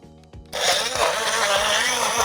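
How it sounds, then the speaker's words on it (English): Portable personal mini smoothie blender switching on after a click, its motor whirring loud and steady close by, a broad continuous hum with a low rhythmic churn running to the end. "So I should be able to press the button and it starts to blend."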